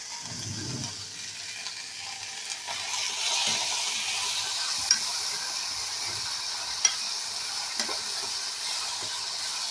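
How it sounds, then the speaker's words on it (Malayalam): A pan of kurka (Chinese potato) curry being stirred after water is added: a soft, continuous watery sizzle and hiss with a few light scrapes and taps of the spoon, fairly faint and with no talking. "വെള്ളം ഒഴിച്ച് ഇളക്കി വെക്കും"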